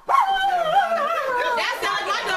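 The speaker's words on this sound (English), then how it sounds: "That sounds like my dog" A dog whines and yips continuously in a high, wavering tone close by, with human voices mixed in around a family gathering at a house.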